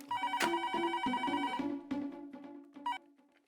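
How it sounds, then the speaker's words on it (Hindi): A telephone bell rings indoors in a series of bright, repeated trills that trail off quietly, with a final short burst at the end. "फोन आया। हाँ मैं लेता हूँ।"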